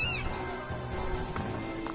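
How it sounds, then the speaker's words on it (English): A cat meows twice in the video game Kingdom Hearts Dream Drop Distance, a clear rising mew at the start and a fainter one near the end, over steady game music. "And we have a cat."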